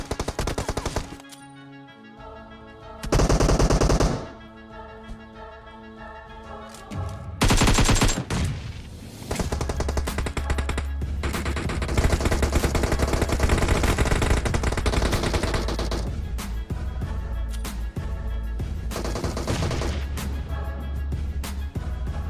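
Rapid automatic gunfire crackles through an intense PUBG Mobile firefight, dense bursts rolling almost continuously with a few sharp louder blasts standing out early on, loud and close over a steady game soundscape.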